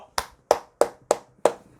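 Five sharp hand claps at a steady, slightly slow rhythm, close and crisp with short gaps of quiet between them.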